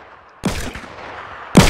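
Two loud, sharp hunting-rifle shots in a video game, about a second apart, each with a short ringing decay and no talk over them.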